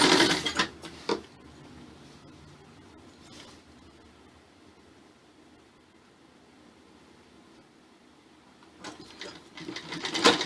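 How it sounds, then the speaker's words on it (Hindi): A sewing machine stitches a salwar waistband belt half an inch from the edge, a steady soft whirring hum running continuously, with louder handling clatter at the start and end. "अब यहाँ से हम इसको सिलेंगे। आधे इंच की दूरी पे सिलते हुए चले जाएंगे।"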